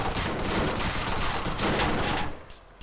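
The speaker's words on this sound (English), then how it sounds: "What's this other shooting taking place?" Sustained, dense gunfire crackles through a firefight in the military shooter ARMA 3, a loud continuous barrage of overlapping shots that suddenly thins out near the end with no talking.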